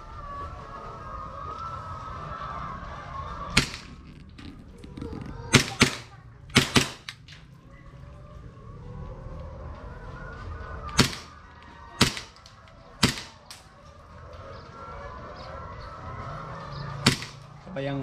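A toy airsoft gun fires pellets in sharp, snappy cracks, about nine shots spaced irregularly, some in quick pairs, over a quiet background hiss.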